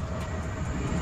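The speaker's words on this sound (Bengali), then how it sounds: "সাইড দিয়ে আবার ট্রেন যাচ্ছে।" A train running past an abandoned wrecked coach, a steady low rumble and broadband rolling noise throughout a short stretch, with no voices.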